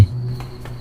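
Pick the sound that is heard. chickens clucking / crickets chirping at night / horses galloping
crickets chirping at night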